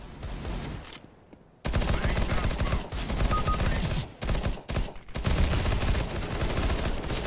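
Sustained automatic rifle spray in CS:GO, loud dense bursts of rapid gunfire firing through smoke, briefly cutting out, then resuming in long overlapping volleys.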